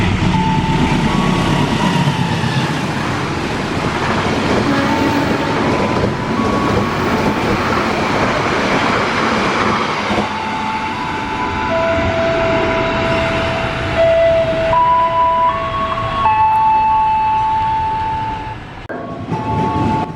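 Fajar Utama YK 110 passenger train in Indonesia rolling past nearby, a loud continuous rumble and clatter of carriages lasting throughout, with a horn or high tones sounding near the end.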